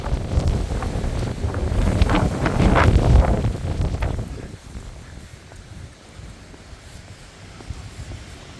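Outdoor wind buffets a microphone on a warm day near a 1960s office building, gusting loud and rough at first, then easing to a lighter, steady rush.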